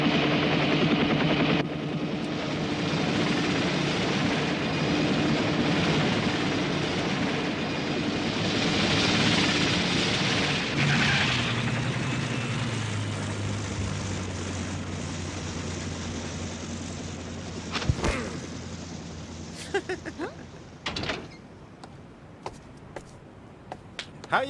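Engine drone of an aircraft carrying passengers in the Street Fighter II V animated series, a steady loud roar with a shifting low tone that fades out near the end into a few scattered knocks.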